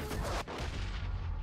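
Gunfire from a submachine gun in Saints Row, a short dense burst of shots with a sharp crack near the middle, fairly faint and compact.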